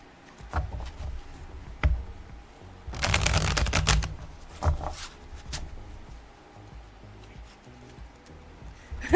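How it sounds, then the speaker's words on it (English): A deck of tarot cards is shuffled, with scattered riffles and soft clicks and one longer burst of rapid card flutter in the middle, close and fairly quiet. "Let me give this a couple shuffles."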